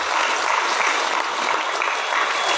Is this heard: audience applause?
yes